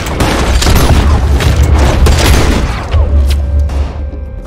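Gunfire rings out in a Red Dead Redemption-style video game as a loud, dense run of heavy booming shots, with deep rumbling impacts under the reports that ease off toward the end.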